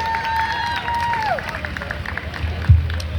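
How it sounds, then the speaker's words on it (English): Audience applause and cheering at a Souls to the Polls election rally in St. Petersburg, Florida, a crowd clapping and murmuring while a tonal sound slides downward early on and a thump lands near the end. "Let's give them another round of applause."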